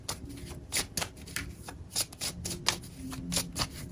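Tarot cards are shuffled by hand in repeated quick riffles and slides for a psychic reading, soft and close, with brief pauses between bursts.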